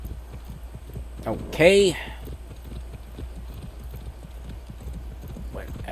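Horse hooves clip-clop in a steady rhythm in the Far Cry 6 video game, with a brief whinny partway through, while a player speaks a word over it.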